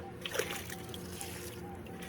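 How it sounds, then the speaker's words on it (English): Five-minute setting drywall mud being mixed with water in a pan, giving wet sloshing and splattering scrapes near and moderately loud, with a brief burst of clattering splashes early on and steady churning after. "So I like to mix a little bit of mud."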